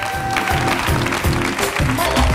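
Audience applause for competing teams at an evening game show event, a dense, steady clatter of clapping sustained throughout with musical tones underneath.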